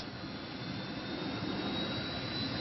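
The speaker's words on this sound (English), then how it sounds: "It just takes 5 or 6 minutes now for the helicopter to fully warm up and be able to take off." A helicopter engine warming up before takeoff, a loud, steady roar with a high whine held at a constant level, like an aircraft turbine idling nearby.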